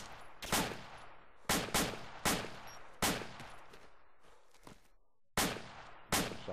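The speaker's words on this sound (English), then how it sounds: "they're still firing" Loud bursts of gunfire crack out in a military video game, with sharp shots and short rapid volleys spaced irregularly, each followed by a decaying echo, and a brief quiet gap before the last two blasts.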